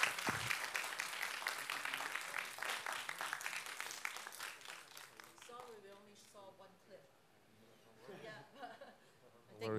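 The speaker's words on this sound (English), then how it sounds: "we owe them a big round of applause." Audience applause after a film-festival screening and directors' dialogue, dense clapping at first that thins out and gives way to scattered talk and murmuring near the end.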